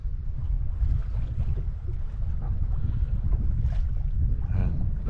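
A sailboat with a little headsail out moves through a gentle 10 to 12 knot wind, with low, steady rumbling wind and water rush close to the microphone.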